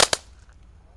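Small firecracker going off: two sharp, close cracks in quick succession, then a quiet tail with a few faint distant pops.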